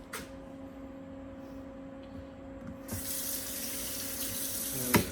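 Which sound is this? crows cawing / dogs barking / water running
water running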